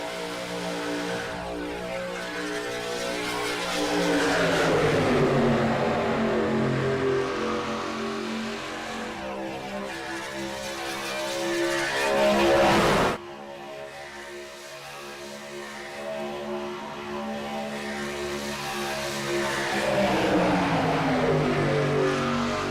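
A race truck engine howls at full throttle near the end of a Daytona race in a racing video game, loud and sustained, with rising and falling pitch sweeps and a brief sharp drop partway through.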